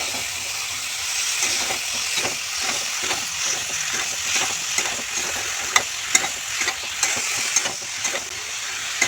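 Green jackfruit curry stirred and sautéed in a pan, a steady close sizzle and hiss with irregular scraping clicks of the spoon that grow sharper toward the end, no voices.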